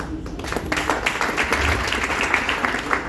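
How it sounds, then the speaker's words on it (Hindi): Audience applause rolls on steadily for a few seconds, a dense patter of many hands clapping at a gathering, fairly loud and uninterrupted, with no voices standing out. "तालियां बहुत बज चुकी है"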